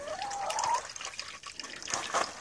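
Water runs steadily into a big blue chicken waterer, a continuous splashing trickle that rises and falls in a pen setting, with no talk over it.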